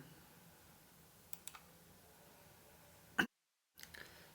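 A few faint clicks on a computer mouse during online form filling, small sharp taps with one louder click followed by a brief dropout of silence, in a quiet room.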